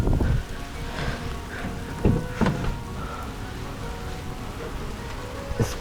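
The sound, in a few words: heavy rain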